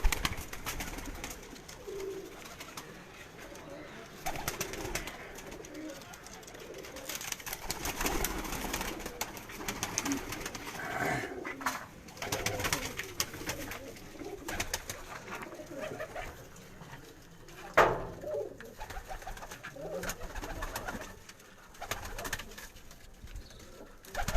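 Pigeons coo steadily in a pigeon loft of a racing-pigeon keeper, a continuous layered murmur of many birds close by, with occasional wing rustles and a few brief sharper sounds.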